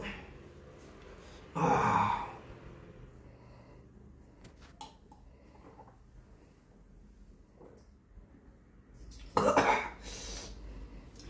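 Two harsh, loud coughing fits break a quiet room, one early and one near the end, with faint shuffling and soft breathing between them.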